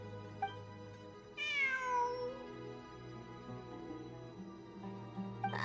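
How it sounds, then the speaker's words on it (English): A cat meows in the video game Genshin Impact, one long drawn-out falling meow over a low background hum, near and moderately loud, with a shorter sound at the start and end. "It really is a cat."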